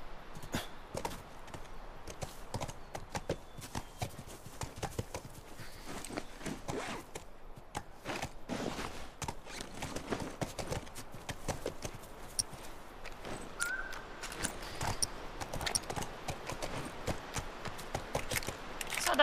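Horse hooves clip-clop steadily at a walking pace in the video game The Last of Us, a moderately faint, continuous run of soft thuds with rustling underneath and no talk.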